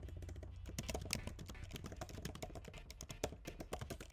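Someone types a short prompt on a computer keyboard, a quick run of soft clicking keystrokes heard up close and fairly quiet, with no talking.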